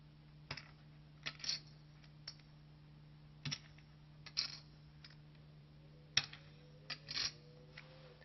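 Poker chips are shuffled at full speed, giving sharp, light clicks in small bursts, about eight quick clattering clusters spread unevenly over a quiet background.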